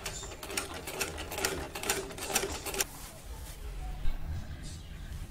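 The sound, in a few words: sewing machine stitching a kameez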